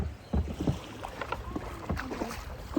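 A kayak is pushed off into the water and paddled, with irregular close splashes and paddle strokes against light wind noise.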